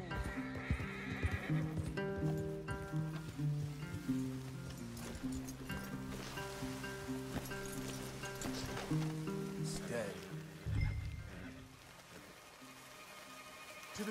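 Horses in the Red Dead Redemption 2 video game neigh and whinny repeatedly, with hooves clip-clopping and soft rain behind, and a voice comes in briefly.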